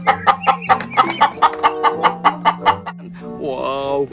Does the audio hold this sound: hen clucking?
yes